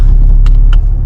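Snow-clearing truck passing along a snowy street in Finland, a steady low engine rumble close by with brief higher clanks over the drone.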